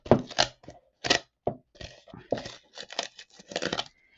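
Tape ripped repeatedly off cured epoxy resin to lift micro-bubbles: a rapid series of sharp, close tearing and crinkling bursts with short gaps between them.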